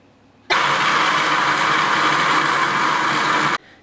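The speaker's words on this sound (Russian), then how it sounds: "Закрываю крышку и начинаю измельчать." A kitchen blender grinds soybeans with water, starting abruptly into a loud, steady whirring roar that holds for about three seconds and then cuts off sharply.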